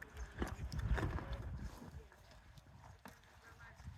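Horses at a zoological centre, with soft hoof clip-clops and snorting movement close by under a person talking throughout, the hooves loudest in the first half.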